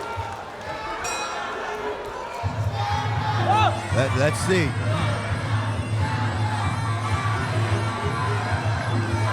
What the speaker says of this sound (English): you can hear them already cheering on their fellow countrymen